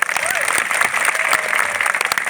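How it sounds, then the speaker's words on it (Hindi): A crowd claps steadily at an outdoor political rally during a comedy performance. The brief burst of clapping is loud and close, with voices mixed into it. "एक बार ताली बजार बताओ।"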